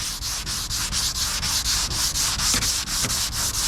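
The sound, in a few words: hand sanding a car body panel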